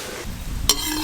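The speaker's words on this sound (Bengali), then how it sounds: "এইভাবে নেড়ে নেড়ে ভালো করে কষে নেব" Chicken for biryani is stirred and fried in a pan, with a spatula scraping against the metal over a steady close sizzle. One sharper clink stands out near the end.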